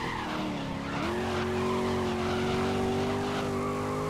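Race car in GRID (2019) braking hard, tires skidding and squealing over a loud, steady engine drone that shifts pitch about a second in, continuous and close for the whole stretch with no talk.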